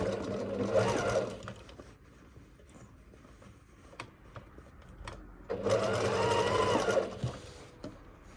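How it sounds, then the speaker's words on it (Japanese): A sewing machine stitches a second line inside the first around a jeans pocket lining, two loud bursts of rapid mechanical whirring separated by a quieter pause with small handling knocks, close up. "2周目は今縫ったところよりもちょっと内側を縫います。"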